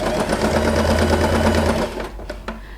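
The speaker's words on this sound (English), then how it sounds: "Continue sewing the edge." Sewing machine stitching along the fabric edge of a scrunchie made over an elastic hair tie, a steady close mechanical whir for about two seconds that slows and stops with a few short bursts.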